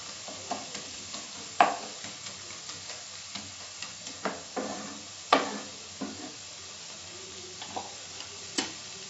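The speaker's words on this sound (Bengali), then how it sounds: "এটাকে কিছুক্ষণ কষবো যতক্ষণ না কাঁচা গন্ধটা চলে যায়।" Spicy tomato crab masala sizzles and fries in a pan over a medium flame, with repeated clinks and scrapes of a spoon stirring through it, close up and with no talking.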